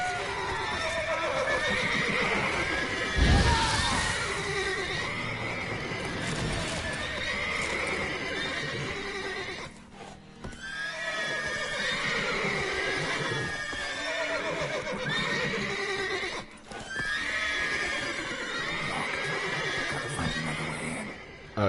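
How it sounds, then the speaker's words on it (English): Agitated horses whinny again and again in The Witcher 3, long shrill neighs in repeated bursts over shuffling hoof clatter, close and loud with a heavy thud early on. "Give me just a minute to calm the horses."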